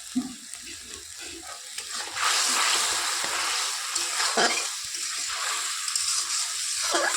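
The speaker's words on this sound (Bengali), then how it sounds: "মশলাটা ভালো করে কষিয়ে নেব কষাতে থাকি" Masala paste of salt, turmeric and red chilli powder frying in a pan over a clay stove for a fish curry, a steady broadband sizzle with stirring scrapes, growing louder and denser partway through, with no talk.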